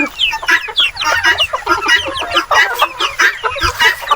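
Native chickens cluck continuously at close range, with overlapping bursts from several birds in a farmyard and no voices.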